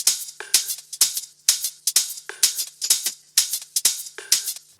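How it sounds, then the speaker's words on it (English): A closed hi-hat pattern in an electronic dance track loops with crisp, bright ticks in a swung rhythm, alongside other short percussive hits, close and dry with no voices. "And then just a really simple kind of closed hat in there."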